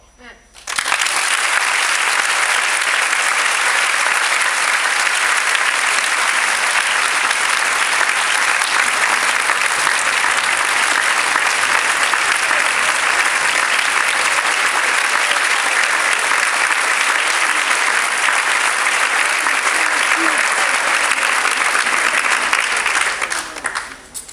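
An audience at a school board meeting applauds in a steady, sustained burst of clapping that lasts over twenty seconds before cutting off.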